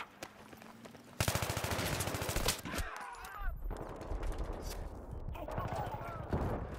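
Rapid video game automatic gunfire rattles in a sustained burst, then continues in scattered shots under excited talking.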